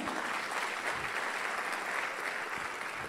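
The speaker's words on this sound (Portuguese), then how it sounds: "Dê uma salva de palmas a Jesus." A church congregation applauds during a sermon, a continuous wash of clapping at moderate distance, fairly soft and even throughout.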